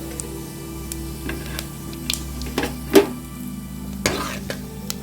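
Soft crackling and light sizzling of whole spices, including cinnamon bark, frying in hot oil for tempering, with a few sharper pops and clinks scattered over a steady low hum.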